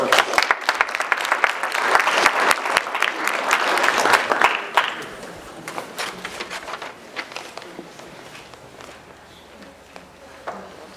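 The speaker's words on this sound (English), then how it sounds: "I'll ask for another round of applause" A room full of people claps steadily, loud at first, then thinning out and fading to scattered claps and shuffling.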